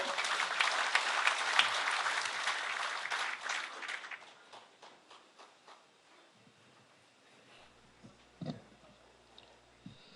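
A large assembly of delegates at a 2012 Korean labor union convention applauds loudly to welcome a speaker, the clapping fading away after about four seconds, followed by faint room noise and a brief thump.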